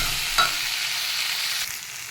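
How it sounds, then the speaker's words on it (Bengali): Vegetables fry in a hot pan on a home stove, giving a steady close sizzle broken by a couple of quick stirring scrapes, with no voices. "সবজিটা ঠিকঠাক ভাজা হয়ে গেছে"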